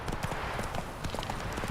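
Hooves of Geralt's horse Roach galloping in The Witcher 3 video game, a rapid, steady clip-clop rhythm of hoofbeats, close and continuous.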